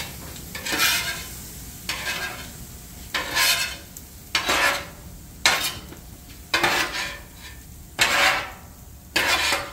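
Chicken and shrimp egg fried rice being stirred in a sizzling pan, with a spoon scraping and clanking against the metal in regular bursts about once a second over a soft, steady fry.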